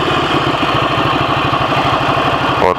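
A modified 2023 Ducati Scrambler 800 motorcycle idles up close with a rapid, even, loud throb that holds steady, then shifts briefly at the very end.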